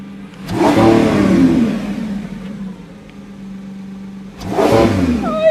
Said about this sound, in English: I've turned it into sports mode so we can rev it a tiny bit